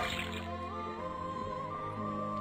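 Liquid drips from a tapped faucet into a cauldron in the puzzle game Detective Grimoire, a light dripping and trickle over steady, tonal background music with no talk.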